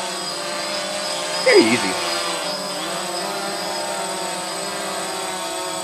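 A DJI Phantom quadcopter drone hovers in a steady, high-pitched whine of spinning rotors, close and continuous, while someone speaks briefly.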